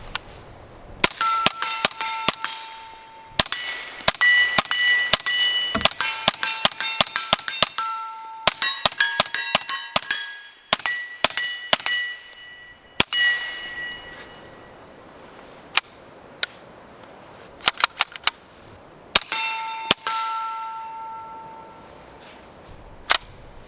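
A suppressed Ruger PC Charger fires 147 grain rounds in irregular bursts of sharp cracks, each shot followed by a bright metallic clang and ring, with short pauses between strings.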